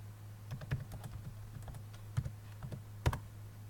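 Close clicks of a computer keyboard as a username and password are typed, irregular quick keystrokes with a few louder taps over a steady low hum.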